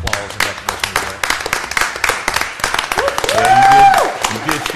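A meeting audience applauds Fire Chief Bobby Boyd, named Eastern North Carolina Fire Chief of the Year, at a New Bern Board of Aldermen session; steady nearby clapping runs throughout with voices talking over it.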